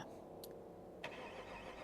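A 6-liter diesel truck engine in BeamNG runs at a steady, quiet drone with a brief sharper surge partway through, no talking.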